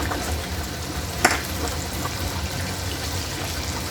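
Chopped garlic sautéing in a pan for a simple home-cooked vegetable dish, a faint, steady sizzle with one brief clink of a utensil near the start.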